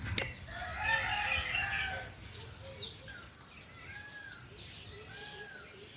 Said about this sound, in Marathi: तिकडं मोरांचा आवाज